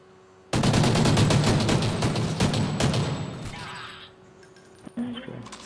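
Gunshots in a shooter video game, a dense, loud volley of rapid fire lasting several seconds that then tapers off, with voices talking over and after it.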